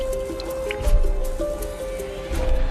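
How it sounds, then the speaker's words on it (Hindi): Water leaks from the cell above and drips into a light fixture in a jail, giving a few soft, wet squishing drips at irregular intervals. A steady tonal music bed sits underneath. "मेरे ऊपर वाले सेल से मेरी लाइट में पानी लीक हो रहा था"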